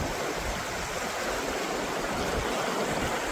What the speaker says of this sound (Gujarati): પાણીનું અત્યારે એટલું વહેતું પ્રમાણ છે કે 2 કાંઠે નદી જાય છે અત્યારે